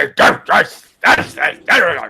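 A human voice imitates fantasy creatures speaking in a slightly articulated barking language during a tabletop role-play session: five short, rough bark-like bursts, close and loud, with brief gaps between them.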